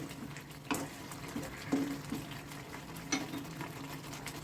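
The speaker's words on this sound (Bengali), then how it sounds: "এই ম্যারিনেট করার পরের যে মশলাটাকে আমি সাত থেকে আট মিনিট এইভাবে কষিয়ে নেব" Yogurt-marinated chicken masala cooks down in a pan with a soft, continuous sizzle and bubbling, broken by a few light spoon stirs and scrapes; fairly quiet, with no talking.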